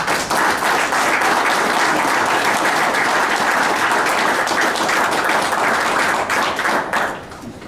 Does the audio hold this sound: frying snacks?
no